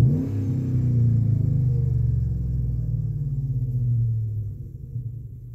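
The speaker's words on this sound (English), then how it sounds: "So it's running right now. I'll do a couple revs." Chevrolet Silverado pickup with a 5.3-liter LC9 V8, Magnaflow straight-through muffler and third catalytic converter deleted, heard from inside the cab: a deep, loud idle rumble swells into a couple of revs and settles back, with no talking.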